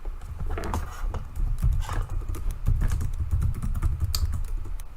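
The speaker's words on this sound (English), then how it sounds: "wait, I don't know why I'm typing." Rapid, steady typing on a computer keyboard, close and fairly loud, with continuous clicking keystrokes and no talk over it.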